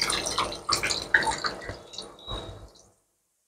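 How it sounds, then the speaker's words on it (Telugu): Water poured into crab curry cooking in a pan, a few splashing pours and drips close by that fade out toward the end. "కొంచెం వాటర్ పోస్తాను"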